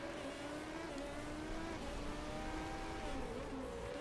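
A race car engine bouncing off the rev limiter along a straight in the racing management game Motorsport Manager, a thin steady whining drone held at high revs, distant and continuous over the track ambience.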